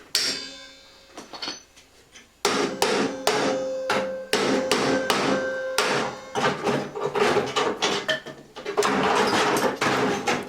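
A hammer taps out Talbot camper bonnet metal clamped in a vise: a close run of sharp metallic strikes, some single and some in quick clusters, with short pauses between bursts.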